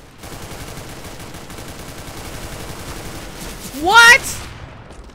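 Steady rapid gunfire from a gun in CS:GO rattles through a match, ending with a short startled shout from a player over the shooting.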